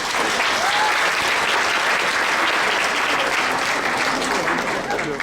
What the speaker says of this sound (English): So would everyone please give them a round of applause.